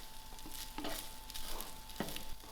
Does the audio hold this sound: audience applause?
no